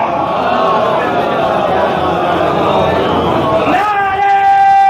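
A crowd chants salawat in unison during a Muharram majlis, a dense swell of many voices answering the preacher, loud and continuous, ending in a sustained sung note.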